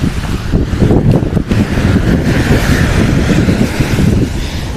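Sea waves wash onto a Kerala beach under strong gusting wind, a loud continuous roar and rumble with wind buffeting the microphone throughout and no voices.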